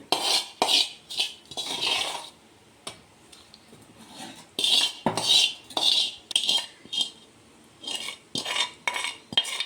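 A spoon clinks and scrapes against a bowl as tempering is poured into a loose, watered-down chutney and stirred in, in short irregular bursts separated by brief pauses. The sound is close, and no voices are heard.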